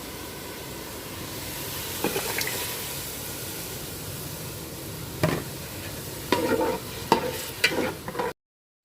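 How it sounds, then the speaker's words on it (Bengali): Chopped onions and tomatoes fry with spices and curry leaves in a pan: a steady soft sizzle runs throughout, broken by several sharp clacks and scrapes of stirring, with no voices. "আমার মাছের জন্য টমেটো আর পেঁয়াজ চপ করে বেজে নিচ্ছি"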